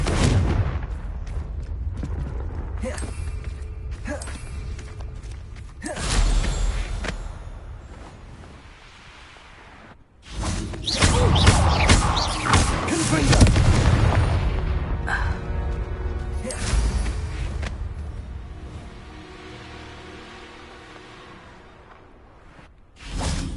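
Confringo fire-blast spell explosions from a Harry Potter video game, with swooshing casts and booming bursts. A big blast hits midway and rolls on into crackling rumble, then another burst comes at the very end.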